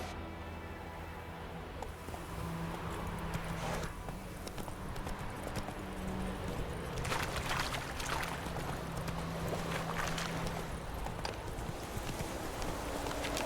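Hooves of the horse Roach galloping in The Witcher 3, a steady rapid clip-clop running throughout, close and fairly loud.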